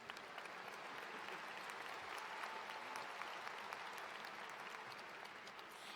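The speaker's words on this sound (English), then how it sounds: "that deserves applause" Steady applause from a college convocation audience, dense sustained clapping filling the hall without a break from start to finish.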